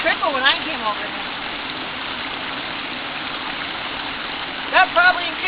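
Creek water rushes loudly and steadily over a small waterfall outdoors, a dense continuous roar filling the whole clip, with brief voices talking over it near the start and end.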